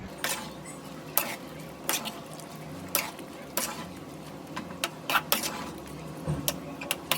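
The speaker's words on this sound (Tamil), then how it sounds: "நம்ம முன்னாடியே ஷாலோ ஃப்ரை பண்ணி வச்சிருந்த சிக்கனை ஆட் பண்ணுறேன். நல்லா மிக்ஸ் பண்ணி கொடுத்துருங்க." Shallow-fried chicken is stirred into a Kerala-style roast gravy in a pan, producing a low simmering sizzle broken by sharp, irregular spatula knocks and scrapes every second or so.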